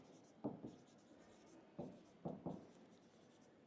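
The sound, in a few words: writing the required area on a board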